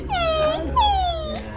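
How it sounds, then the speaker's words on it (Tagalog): Dogs whining and yelping in two drawn-out, falling whimpers, close and fairly loud, with faint background noise beneath. "Ito yung mga aso ni Sir."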